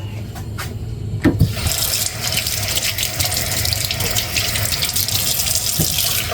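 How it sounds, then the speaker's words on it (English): A kitchen tap turns on and runs steadily as hands are washed after handling fish, a close, continuous gushing stream with no talking. "I'm gonna have to wash this off because I hate when I touch with fish and stuff like that."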